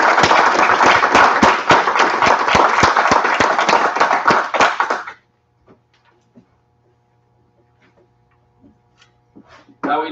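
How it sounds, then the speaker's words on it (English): Several people clap at a town board meeting, a loud burst of close, distinct claps lasting about five seconds, then near silence with a few faint scattered knocks and shuffles before sound returns briefly at the end. "How about a round of applause?"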